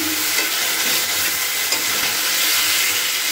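Capsicum and chillies sizzling loudly in a hot pan while being stirred, a dense continuous frying hiss with faint scraping, close and without talk.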